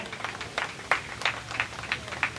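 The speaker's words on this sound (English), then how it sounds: "Let's give them a round of applause, please." Audience applause at an outdoor patriotic celebration, heard as a scattered, modest round of claps with distinct bursts roughly every third of a second over a soft crowd murmur, no speech on top.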